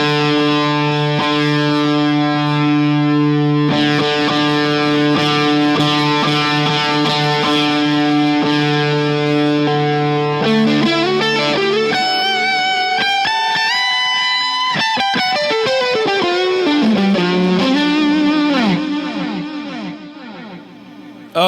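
Electric guitar played through distortion and a volume boost into a Two Notes Reload II, loud sustained chords followed by a run of bending lead notes, alone without talk.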